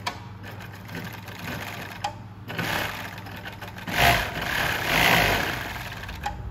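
Pegasus EXT321 5H-A05 walking foot industrial sewing machine running at a slow pace, its motor hum and steady needle stitching rising and falling in bursts, fairly close and clear with no talking.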